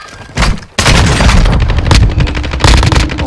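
Heavy automatic gunfire in a video game, loud and close, with sharp bursts starting abruptly and rattling on in dense, repeated volleys with no talk over it.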